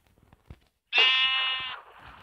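A single sheep bleat from a survival video game rings out clearly for under a second after near silence, followed by faint low background sounds.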